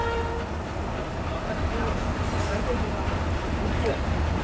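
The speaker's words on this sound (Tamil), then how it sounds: "கூட்ஸ் ட்ரெயின் போயிட்டுருக்கு, பார்க்குறோம்." A goods train rumbles past a railway crossing, heard as a dense, steady roar and rattle of wagons close by with faint voices in the background, continuous and unbroken throughout.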